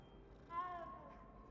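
A cat meowing in the video game Hogwarts Legacy: a single soft, drawn-out meow, faint and close, over quiet game ambience.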